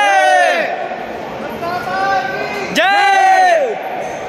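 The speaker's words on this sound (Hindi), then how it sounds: "और भीड़ बहुत ही ज़्यादा।" A large crowd queues at night at the Khatu Shyam temple, with loud, long drawn-out calls rising in chorus twice over a steady murmur of voices nearby.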